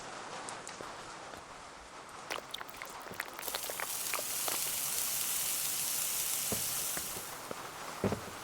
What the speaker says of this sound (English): why is it still raining like 4 days later?